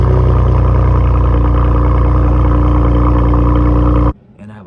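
A Chevrolet Camaro with dual exhaust tips and a muffler delete idles loudly up close, a deep steady rumble with a heavy low throb that cuts off abruptly near the end, leaving faint background noise.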